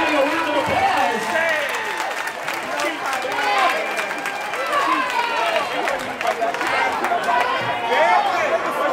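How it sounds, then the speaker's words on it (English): A ballroom audience at a ball applauds and cheers, with clapping mixed into loud crowd chatter and shouting voices throughout. "give me a round of applause"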